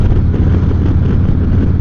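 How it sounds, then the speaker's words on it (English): Steady, loud wind roar buffets the microphone throughout a motorcycle ride through a wind farm, a constant low rumbling rush with no breaks. "you're in the middle of the wind farm, because it's windy"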